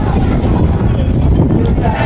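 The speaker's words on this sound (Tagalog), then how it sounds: "malakas yung hangin" Strong wind buffets the microphone in a constant low roar with no break.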